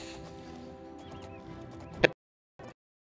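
A horse in the video game Oblivion whinnies with hoof clip-clops, ending in a sharp close thud and a brief final burst after a pause.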